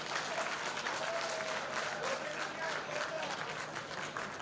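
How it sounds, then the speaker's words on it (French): Steady applause fills a hall in Benin as an audience claps in a dense, even stream, moderately loud, with faint crowd murmur and a brief voice underneath. "applaudissez"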